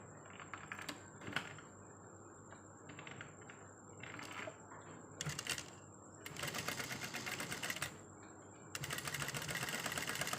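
A sewing machine runs over trouser seams, re-stitching them to strengthen the crotch in a garment repair. It comes in several bursts of rapid mechanical stitching, short at first and then longer runs, close and fairly quiet with no talking.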